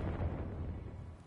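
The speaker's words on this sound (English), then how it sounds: "Oh, grenade." A grenade goes off in a video game shooter: a brief, heavy explosive boom with a low rumbling tail that fades over about a second.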